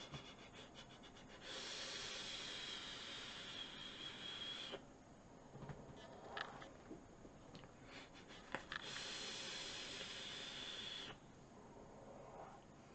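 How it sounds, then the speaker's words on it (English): Two long, soft hissing draws on an Oumier Wasp Nano RDA vape, each lasting a few seconds, with quiet breathing and small clicks in between, close and faint with no talk. "So let's have a vape, shall we?"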